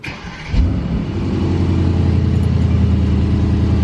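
A straight-piped Mercedes E63S AMG engine cranks and fires up, then settles into a loud, deep, rumbling idle with raspy exhaust burble, recorded up close.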